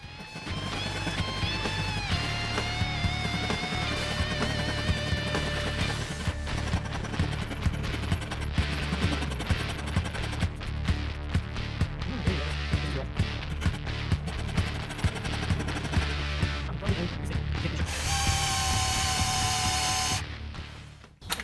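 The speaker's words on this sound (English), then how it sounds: "I'll just go in with a circle rasp, and I'll kind of figure things out as we go" A circle rasp shapes the neck of a headless electric guitar, making continuous loud, rough scraping strokes under music for about twenty seconds.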